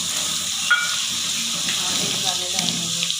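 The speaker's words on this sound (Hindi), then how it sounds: "इसको हम गोल्डन कलर आने तक फ्राई करेंगे।" Garlic paste frying in a pan: a steady, close bubbling sizzle that stays even throughout, with occasional soft pops and a voice talking faintly underneath.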